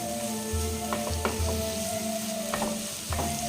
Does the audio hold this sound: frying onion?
yes